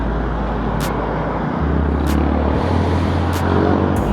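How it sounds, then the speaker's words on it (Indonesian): Yamaha Scorpio 225 motorcycle on the road, a continuous close engine rumble with wind noise and slight shifts in pitch, plus a few faint clicks, with no talk. "Nih motor Scorpio gua."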